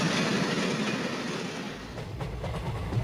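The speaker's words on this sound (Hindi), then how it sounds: "सिर्फ एक ही आवाज़, तेज भागती हुई रेल की गराज" Steady rumble of a fast-moving train, broadband and continuous with a dense low roar and faint rhythmic rail clatter, heard close and alone for the whole stretch.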